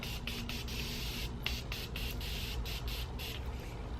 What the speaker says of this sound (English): We're gonna add a lot of setting spray